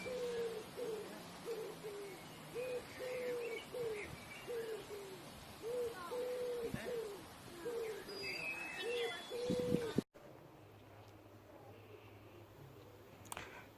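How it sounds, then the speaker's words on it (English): Steady, repeated hooting bird calls outdoors over a soft background hiss, cutting off abruptly near the end to a quieter scene. "Hopefully you can hear the birds."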